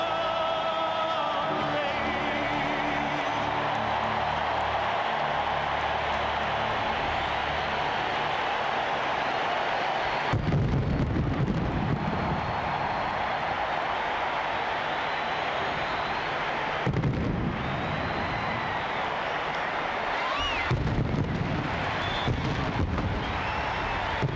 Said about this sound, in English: get the feeling the fireworks have only just begun.